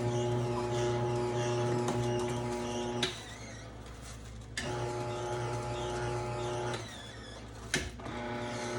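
Juicer motor grinding celery, a steady tonal hum that shifts to a rougher, lower churn for stretches, with a few sharp clunks as stalks feed in.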